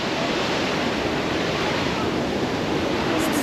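Athabasca Falls in Jasper, Alberta, gives off a dense, steady roar of rushing water that stays constant and close throughout, with a faint voice barely audible beneath it.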